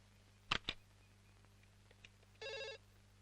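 A landline telephone gives one short electronic ring burst, quiet and alone, after a couple of sharp clicks in an otherwise still room.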